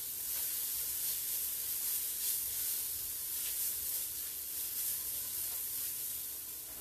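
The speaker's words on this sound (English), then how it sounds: "You want those onions nice and sweating." Onions sweating in a pan give off a faint, steady hiss and sizzle, continuous and fairly quiet, with no voices.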